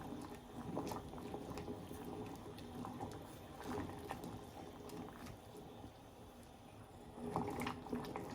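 Sugar syrup with lemon juice boiling in a pot for gulab jamun, with a quiet, steady bubbling and scattered small pops and plops.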